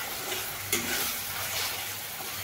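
Spice masala for rajma frying in released oil while being stirred, a continuous close hiss and sizzle with one brief utensil scrape, steady throughout and without talk.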